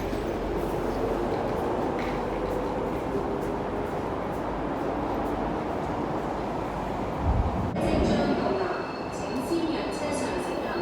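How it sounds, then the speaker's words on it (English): A C train pulls into Tai Shui Hang Station on the MTR, a steady loud rail rumble with a brief surge and high electric whine near the end, while a person talks over it. "Timon bound C train, here it comes"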